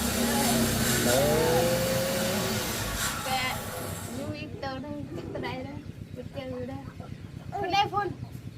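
Hens on a home farm clucking in short, repeated bursts, moderately close, over a steady low hum with a brief louder stretch near the start.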